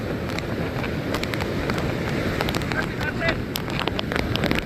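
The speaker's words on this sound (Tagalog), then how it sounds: "Ang hangin, napapayig na tayo ng hangin." Wind blows hard at the coast, a constant roaring rush buffeting the microphone, with faint scattered clicks and no clear break through the stretch.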